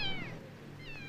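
A cat meows twice, a short rising-falling cry followed by a second shorter one, faint and close with no talk over it.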